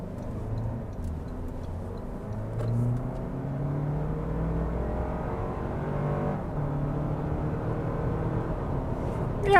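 A Toyota Land Cruiser with a 5.7 engine accelerates from inside the cabin, its steady engine drone and road rumble holding at a moderate level and rising slightly as it gains speed, with no talking.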